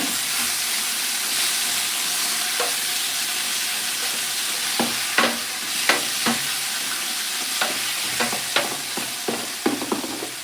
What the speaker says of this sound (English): So essentially what I'm doing right now, like I said, I'm searing it